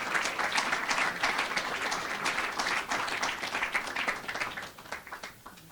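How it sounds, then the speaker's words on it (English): An audience at an alumni awards event applauds a student award recipient with a warm, sustained round of clapping, steady and full before thinning out near the end. "let's give Logan a warm round of applause for his academic achievement"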